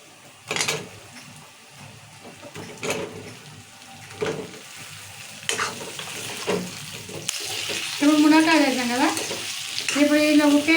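Drumsticks dropped into hot oil in a pan for a tomato fry, with separated scraping stirs at first, then a louder crackling sizzle that builds and stays strong near the end, no voices.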